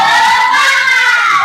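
Pupils in a Grade 4 classroom clap the rhythmic 'tepuk semangat' spirit clap together, a dense, loud burst of hand claps lasting just over a second with no talking.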